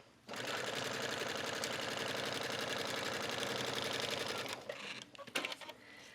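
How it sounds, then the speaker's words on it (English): A sewing machine stitches two fabric layers together while sewing suede cut-outs onto an A-line skirt, a fast steady mechanical whirr for about four seconds before stopping, followed by a few scattered handling clicks. "that is when you're sewing both of these layers on top of each other."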